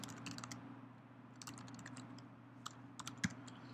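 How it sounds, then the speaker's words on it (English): Typing on a computer keyboard, a steady run of light key clicks with a few sharper taps near the end, close and fairly quiet over a low constant hum. "typing is hard."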